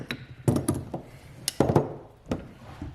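A 3/8-inch ratchet fitted with a deep socket gives several sharp, close metallic clicks in short bursts, with brief pauses between them.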